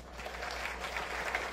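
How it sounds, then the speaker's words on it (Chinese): An audience applauds the engineering team at a ceremony marking the breakthrough of a water-main tunnel, with steady, moderately distant clapping sustained throughout. "我们要给工程团队掌声鼓励一下"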